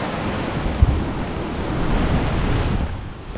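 Heavy surf breaking and churning along a rocky coastal gorge on a Korean seaside trekking path, a steady broad roar with gusting wind against the microphone and one brief knock near the start.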